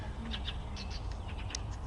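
Small birds chirp in a forested Moscow park, giving brief, light calls scattered across a steady outdoor background hum, moderately distant.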